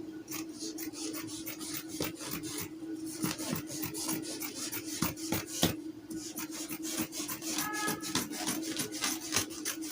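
Blade or scissors slitting open the side seam of a dress, a repeated close rasping and snipping with sharp rhythmic cuts over a faint steady hum, with no speech.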